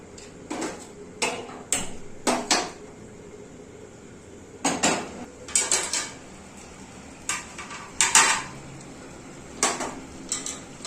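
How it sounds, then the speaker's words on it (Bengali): A metal lid and cookware clatter on a gas stove: sharp clanks and scraping knocks come in irregular clusters, close and fairly loud between quiet pauses, with no talk. "আমি গ্যাসের উপর চাপিয়ে দেবো আর এইভাবে ঢাকনাটা দিয়ে দেবো"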